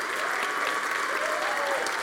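Sustained applause from a Brazilian church congregation honouring its pastor, a thick, even wash of many clapping hands that holds at a constant loudness with a faint voice beneath it.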